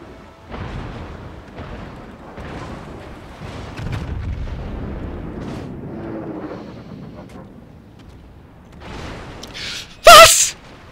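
Warship artillery booms in the naval battle game World of Warships, several muffled low rumbling shots spread through the stretch, ending with a sharp loud blast near the end.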